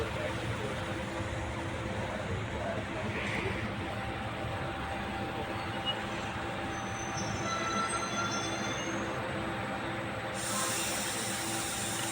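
Passenger train idling at Veerapandi Road station on the Erode to Mettur Dam line, a steady low rumble with constant engine hum and faint high squeal, close and continuous throughout.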